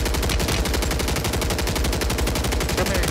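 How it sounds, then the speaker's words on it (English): Sniper and automatic gunfire in a Call of Duty Warzone match, a dense, loud, rapid stream of shots that runs without pause and fills the whole stretch. "I'm getting sniped at, I think."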